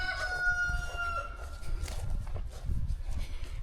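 Farm chickens clucking and a rooster crowing in the rain, with several bird calls near and clear at the start over steady low background noise.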